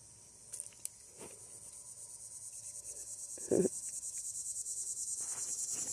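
Cicadas shrill in a steady, pulsing high drone that runs the whole time and slowly grows louder, with a few faint taps and rustles underneath and no voices.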